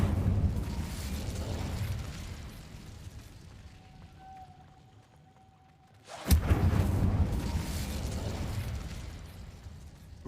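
An Incendio fire spell cast in Hogwarts Legacy: a quiet ambient rumble gives way to a sudden sharp burst, followed by a loud, sustained whooshing roar of flame that fills the rest of the clip.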